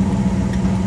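A 1978 Mercury Grand Marquis engine idles steadily with a low, even drone, close and constant, carburetor freshly converted to a manual choke.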